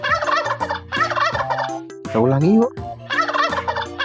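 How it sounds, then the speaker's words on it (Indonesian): Cartoon turkey gobbling on a farm, a loud warbling gobble repeated in several bursts over a steady backing tune, while a voice speaks briefly in between. "Ya, itu betul-betul ayam kalkun."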